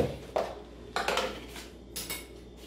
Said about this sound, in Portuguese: Eu vou pôr uma colher de açúcar